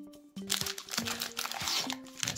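Cellophane and card packaging of a Magic: The Gathering Ravnica Clue Edition box crinkling and crunching up close, with several short tearing and rustling bursts and a few faint tonal thumps.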